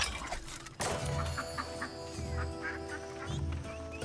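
Caged ducks in the video game Soulframe honk and quack in several short, loud bursts spread across a few seconds, alone over a steady game ambience.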